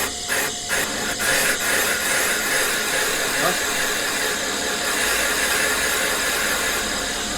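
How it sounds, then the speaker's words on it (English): A cutter works the valve seat on a Renault Clio 172 cylinder head, giving a loud, continuous hissing, grinding whir close to the microphone with a few brief dips near the start, steady throughout. "Cutting the valve seat."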